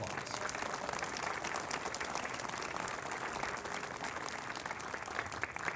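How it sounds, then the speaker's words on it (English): An outdoor crowd at a municipal band concert applauds the concert donors, a steady wash of many hands clapping at a distance, even in level throughout and fairly faint. "Can you give them a big round of"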